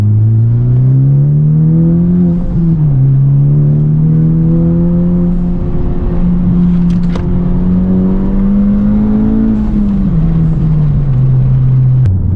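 A Honda Civic Type R running a new tune accelerates hard, heard from inside the car as a loud, steady engine drone that rises in pitch, dips at a gear change, and climbs again before easing off.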